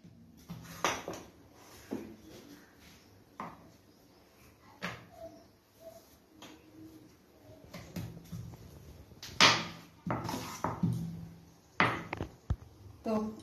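Lachha paratha dough rolled out on a kitchen board, giving irregular knocks, clacks and rolling-pin thuds with scraping in between, close and moderately loud, with a voice talking at times over them.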